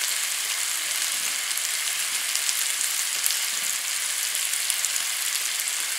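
Vegetable mix sizzling steadily in a hot pan as it is stirred in, a dense continuous frying hiss at even loudness with no voices.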